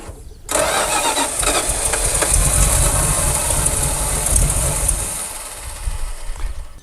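Loud, sustained cranking of an abandoned Dodge Power Wagon service truck's engine, a rapid rhythmic chugging that runs for several seconds before easing off, with no voices.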